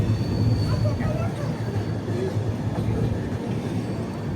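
Kirandul passenger train 58501 rounding a curve on the line from Visakhapatnam toward Araku, a steady close rumble of wheels and carriages that holds evenly throughout.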